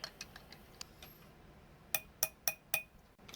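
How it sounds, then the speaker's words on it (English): A spoon clinks against the inside of a glass four times in quick succession, bright and close, after a few softer ticks, as a drink mixed with water from an MRE ration is stirred. "And we'll stir it up real quick."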